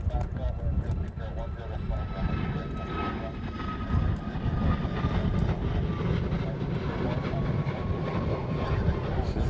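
A Southwest airliner departs Honolulu airport, its jet engines roaring steadily at a distance under a continuous wash of noise, while a person talks over it.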